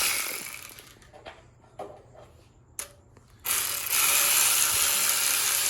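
A ratchet wrench backs bolts out of a Toyota 2JZ-GTE engine during teardown, with the cam gears and cover already removed. Loud, close clicking runs in bursts with brief pauses, ending in a steady, dense ratcheting stretch.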